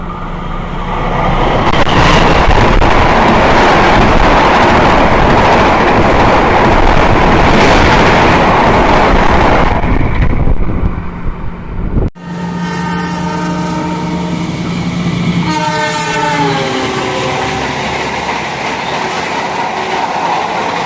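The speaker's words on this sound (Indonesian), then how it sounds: "Berjalan langsung kereta api Setia Utama Jogja." The Setia Utama Jogja passenger train passes close by with a loud rolling rumble and rail clatter, then after a brief cut a long, sustained horn blast sounds, steady then wavering.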